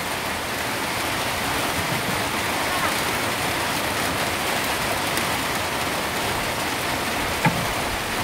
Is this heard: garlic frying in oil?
no